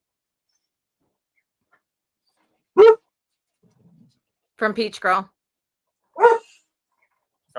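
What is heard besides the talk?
dog barking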